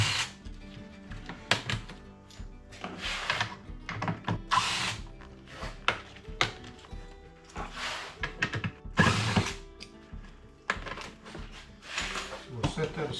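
Steady ratcheting and whirring bursts of a power tool back out screws with fender washers holding a 2x4 on a backyard playset, loud and close, with someone talking over the work.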